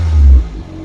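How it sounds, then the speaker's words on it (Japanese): Low, close rumble from a Suzuki Wagon R FTS Limited K6A engine at the intake, swelling briefly as it revs and then easing back to a steadier drone. "FTS リミテッドの吸気音と排気音を聞いてみたいと思います。"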